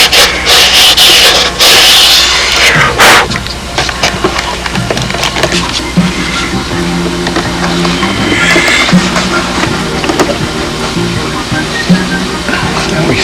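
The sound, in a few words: sanding flap fairing to fit the fuselage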